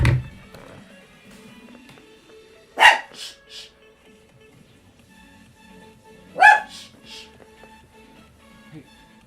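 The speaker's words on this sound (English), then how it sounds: "It's my dog." A dog indoors gives two short, sharp barks a few seconds apart, moderately close against a quiet room.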